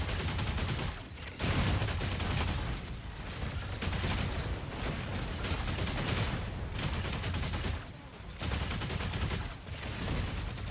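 Dense gunfire fills a Mechabreak mech battle, a loud, nearly continuous barrage broken by brief pauses, with heavy thuds layered under the rapid shots.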